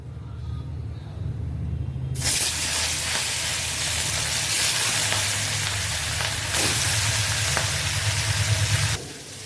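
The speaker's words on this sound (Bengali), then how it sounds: "প্রথমে আমি মাছটা ভেজে নেব" Fish fries in a pan of hot oil: after a low hum, a loud, broad hissing sizzle bursts in suddenly and holds strong and close for about seven seconds, then cuts off abruptly.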